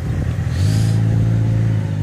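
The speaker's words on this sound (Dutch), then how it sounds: "Terwijl hier de trekker voorbij komt." A tractor rumbles past on a road while a cyclist repairs a flat tubular tyre outdoors, its steady low engine drone swelling and holding loud and close throughout.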